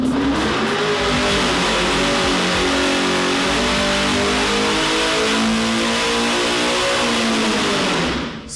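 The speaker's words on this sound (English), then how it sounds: "warm up the engine and make a few runs to make sure everything is running properly" A powerful supercharged 427ci LSX V8 with a ProCharger F-1A-94 roars close by, warming up and revving, holding high, steady power in long sustained pulls with a deep throaty rumble.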